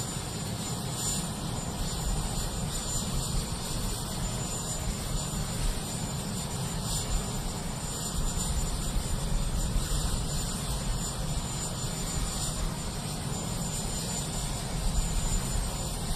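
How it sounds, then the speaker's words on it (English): A helicopter at the 2025 presidential inauguration runs as a constant loud engine and rotor roar mixed with wind, steady and unbroken throughout. "Get away from that helicopter."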